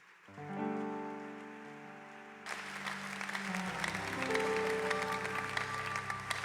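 A church congregation breaks into loud, sustained applause to acclaim the Lord, following a held organ chord, the clapping swelling into a dense, even roar.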